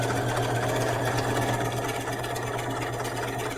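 Sewing machine stitching fabric along the sleeve seam of a hanten jacket, a continuous close motor hum with a rapid needle rhythm, steady and unbroken with no voices.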